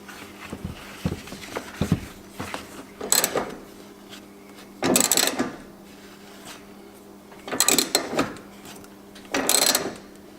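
Ratchet wrench tightening a bolt while installing a Pro Armor 5-point harness: several short bursts of rapid clicking ratchet strokes with pauses between, close by and fairly loud, no voices heard.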